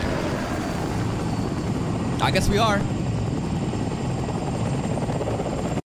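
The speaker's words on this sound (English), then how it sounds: "Alright, send the choppers into the gates!" Anime helicopters flying in a loud, steady rotor drone that fills the whole stretch, with a short line of dialogue spoken over the engine noise midway.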